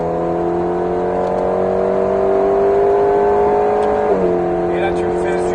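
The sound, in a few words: Alpine A110S accelerating on race circuit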